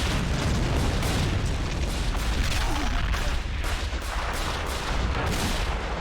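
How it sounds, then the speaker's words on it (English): Artillery fire in an army men D-Day invasion video game battle, a dense continuous barrage of booms and blasts rumbling loudly throughout with no pause. "Blue artillery is really doing their job."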